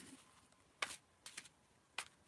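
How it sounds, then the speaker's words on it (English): Playing cards are shuffled by hand during a quiet live stream, three short crisp riffling bursts separated by brief pauses, faint and close with no speech. "I'm shuffling"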